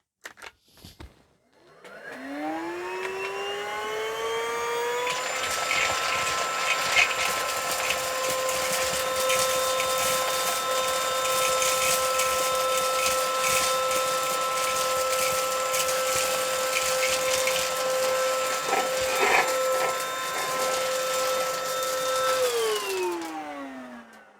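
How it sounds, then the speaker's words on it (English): A Xiaomi Mijia portable handheld vacuum cleaner with a HEPA filter runs on its highest power setting while cleaning up a mess. It spins up with a rising whine into a loud steady high-pitched roar with rattling debris pickup, then winds down at the end. "I'll clean up the left side first with my main vacuum cleaner."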